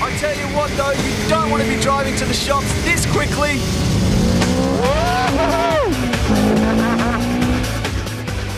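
An Ariel Atom sports car with a six-speed gearbox revs hard on a race track, its engine pitch sweeping up and down through quick gear changes with some tire squeal, loud and close, while a voice talks over it.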